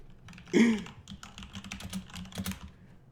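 Rapid clicking keystrokes on a computer keyboard, moderately close, with a brief louder burst near the start and an uneven patter continuing to the end.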